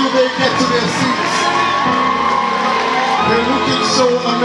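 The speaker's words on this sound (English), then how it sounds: "a round of applause for them" A school audience cheers and shouts for the graduating class of 2019 at a college valedictory service in Abeokuta, a steady, loud crowd roar with whoops and children's shouts throughout.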